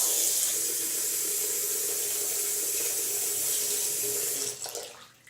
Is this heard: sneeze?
no